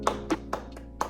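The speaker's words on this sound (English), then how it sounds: "Can I get a hand clap, please?" A few distinct hand claps, about five spaced irregularly over roughly a second, close and fairly crisp in a quiet indoor room, with no talking.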